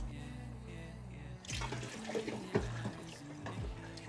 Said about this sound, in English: obviously I'm gonna have to add more water to this